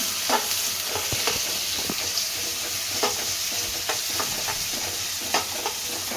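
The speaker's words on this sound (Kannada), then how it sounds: "ಸ್ವಲ್ಪ ಈರುಳ್ಳಿ, ಇದೊಂಚೂರು ಫ್ರೈ ಮಾಡ್ಕೊಳ್ಳೋಣ." Onion frying in a pan for bisibelebath, a steady close sizzle broken by spatula scrapes and taps as it is stirred at intervals, with no talking.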